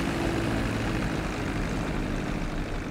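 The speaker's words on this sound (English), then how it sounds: "Okay, I'll get the plane, Cletus." An airplane engine drones in Grand Theft Auto, a steady loud propeller hum with a low throbbing tone that holds evenly throughout, with no talking.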